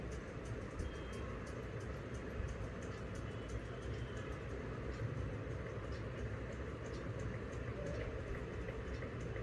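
Cumin and mustard seeds crackle and sizzle in hot oil in a pan, a dense steady popping hiss that stays loud and continuous throughout.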